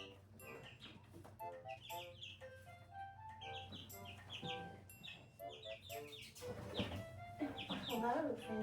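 Chickens cluck and chirp close by in bursts inside an indoor brooder coop, mixed with soft rustling and a low steady hum throughout.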